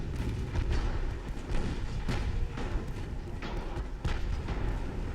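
Naval secondary guns fire and shells strike during a battleship duel in Ultimate Admiral: Dreadnoughts, heard as a dense, muffled run of distant thumps and booms that overlap continuously at moderate loudness.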